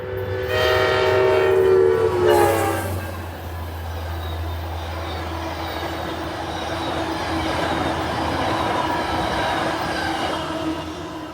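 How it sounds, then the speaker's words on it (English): A VRE commuter train led by an MP36PH-3C locomotive sounds its horn loudly, then rumbles past with steady clattering wheels and a rushing roar that holds for several seconds, close and unbroken. "my first catch was a VRE commuter train from DC at 4:29 p.m."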